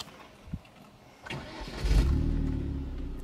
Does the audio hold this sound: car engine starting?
yes